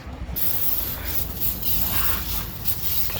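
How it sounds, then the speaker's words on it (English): Water sprays down an oily tow truck engine under rebuild, a continuous hissing rush at close range, with the spray's texture shifting slightly as it moves across the metal. "Spray it down real good."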